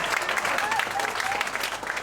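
An audience at a PechaKucha Night in Ubud, Bali, claps steadily and fairly loudly for a couple of seconds, with a few cheers and voices rising above the clapping.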